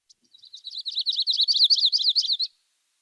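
A yellow-rumped warbler sings a single high, rapid twittering trill that builds and runs for about two seconds, close and clear against silence.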